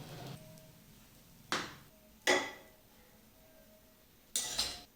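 Cooked zunka, a gram-flour dish, being scraped from a pan into a bowl: a few sharp metallic clinks and scrapes of a spoon against cookware, spaced irregularly with quiet gaps between.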